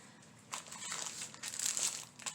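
Narrow pink ribbon crinkles and rustles close by as it is handled and cut for a craft wreath, a few soft scratchy bursts with no talking.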